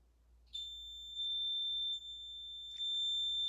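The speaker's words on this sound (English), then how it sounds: "We got the REM pod going off too, if you can hear it" A REM pod detector alarm sounds a steady high-pitched electronic tone continuously, cutting out briefly and then resuming, fairly faint against a quiet jail kitchen room.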